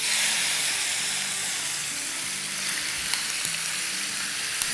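Chicken hits a very hot pan on high flame, giving a loud, continuous sizzle and frying hiss with a few small pops, close and with no talking.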